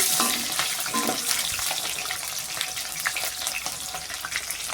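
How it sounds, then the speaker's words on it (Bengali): An egg fries in hot oil in a home kitchen, a steady dense sizzle with crackling spits close by, heard alone with no talk. "তারপরে আমি ডিমটা ভাজা করছি"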